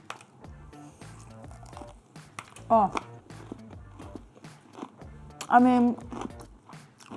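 Two loud crunchy bites of fried chicken break through between bits of close-up talking, with chewing noises in the pauses.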